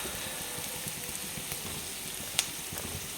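Ash gourd roast sautés in a pan with a steady, close sizzle of frying, broken by a few faint scrapes and one sharp clink from stirring.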